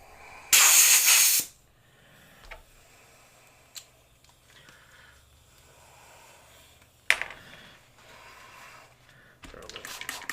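A Medea spray bottle of cleaner fires into an airbrush in one loud hiss of about a second, followed by quieter clicks, handling noises and another short burst later.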